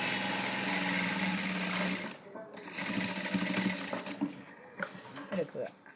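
A sewing machine stitches a zip into a nightie, running in a fast, continuous whir for two seconds, then in shorter stop-start bursts as the needle halts and turns.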